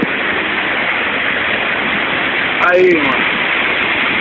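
Heard from behind the falling water at Cachoeira do Evilson in Taquaruçu, Palmas, a waterfall pours as a loud, steady, close roar, with a man's brief spoken remark over it.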